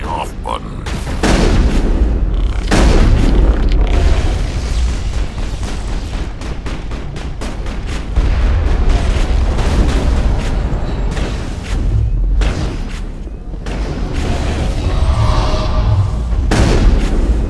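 Heavy gunfire from a big gun in the video game Mass Effect, loud repeated booming blasts in a dense battle mix, with a voice talking over parts of it.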